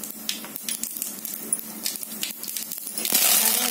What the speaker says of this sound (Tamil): கடுகு கருவேப்பிலை பொருந்திருச்சு